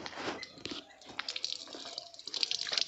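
Water splashing and dripping as people rinse their hands at a Himalayan hill temple, a close, irregular patter of drops and small splashes with no talking.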